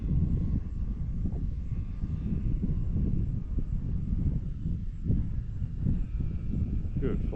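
A radio-controlled model airplane engine drones steadily through the whole stretch during a buddy-box training flight, a loud continuous buzz with slight rises and dips under occasional breezy noise.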